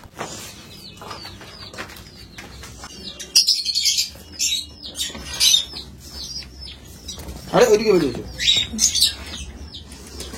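Pigeons nearby flap their wings in several bursts and give short chirps and coos, with brief calls scattered between quieter moments.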